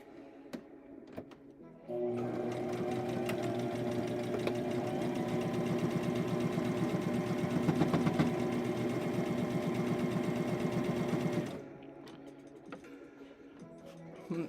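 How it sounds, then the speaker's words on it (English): A sewing machine stitches scrunchie fabric, its motor whirring in a steady, close, rapid rhythm for about ten seconds before stopping, with quieter handling sounds before and after. "And then that's where we're sewing."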